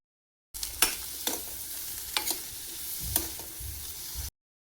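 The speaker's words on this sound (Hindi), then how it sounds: "पहले बटर डाला, फिर ये सारी सब्जियां डाली, इनको पकाई" Vegetables and corn fry in butter in a pan with a steady close sizzle, punctuated by a few sharp clicks and scrapes as a spoon stirs them.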